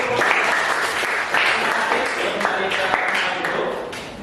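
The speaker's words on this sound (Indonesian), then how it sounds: "Kita beri tepuk tangan." Audience applause at a classroom group presentation session, a steady dense wash of clapping from many people filling the room for several seconds before tapering slightly at the end.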